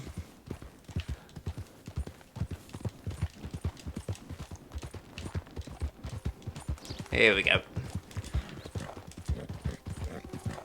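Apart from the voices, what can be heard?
horse hooves clip-clopping in video game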